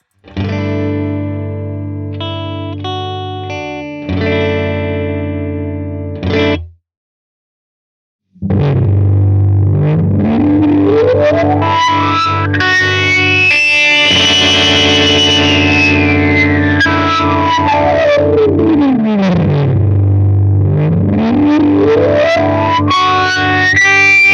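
Distorted electric guitar chords, then a brief gap before a Death By Audio Disturbance modulation pedal sends a heavily modulated sweep rising and falling in pitch in slow swooping arcs, loud and continuous.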